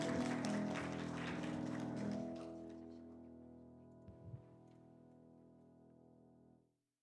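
Church congregation applause, a dense clatter of clapping over a lingering sustained organ or keyboard chord, fading after about two seconds while the chord rings on and dies away.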